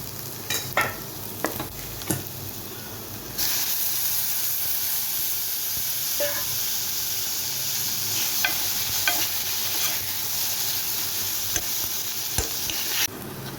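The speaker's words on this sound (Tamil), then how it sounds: "வெங்காயம் உடனே தக்காளி போட்டுடலாம்" Onions and tomatoes for egg thokku fry in a pan, starting with scattered clinks and scrapes of stirring and then rising into a loud, steady sizzling hiss with occasional utensil taps. There is no talking.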